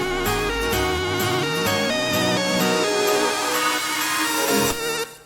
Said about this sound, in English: the instruments turns into this huge reverb together with a high pass filter to then evolve into the regular sounding just before the drop hits